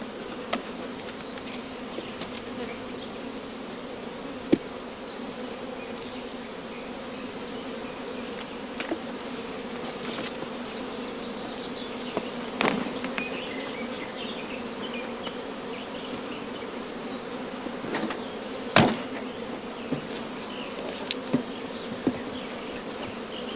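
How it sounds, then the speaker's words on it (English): Honey bees hum in a dense, steady drone around a hive entrance, with individual bees buzzing close past at moments, a sustained swarm sound with no voices. "All flying bees will return to the familiar original hive entrance"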